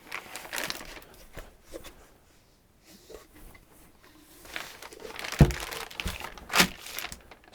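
Packaging crinkles and crackles as a Holset turbocharger is unwrapped, with soft rustles and a few sharper crunches and snaps spread irregularly across the clip, close and fairly quiet.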